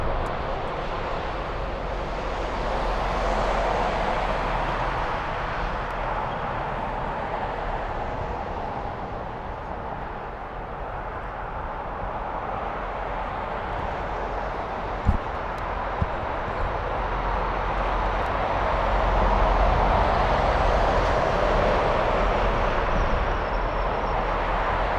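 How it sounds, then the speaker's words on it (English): An Emirates Boeing 777-300 airliner arriving at Frankfurt airport: a steady, broad jet engine roar that swells slightly toward the end, heard from a distance and continuing without a break, with no talking. "Emirates flight 29 inbound from Dubai on a 777-300"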